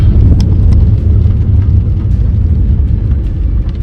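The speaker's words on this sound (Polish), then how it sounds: "Na razie auto jedzie." Low, steady engine rumble of an Audi A6 on the move, with road noise dominating and no voices.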